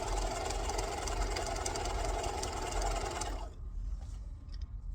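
A sewing machine stitching down a fold on a bag runs as a steady motorized whir for about three seconds, then stops, leaving quieter handling sounds.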